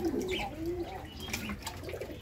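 Pigeons kept on baskets at a farm in Taherpur, Bagmara, Rajshahi, softly cooing and calling in a steady, low murmur over faint background noise, with no one talking.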